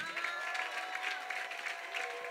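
A church congregation claps along in a steady, even stream of applause that carries a faint rhythmic pulse, with no talking.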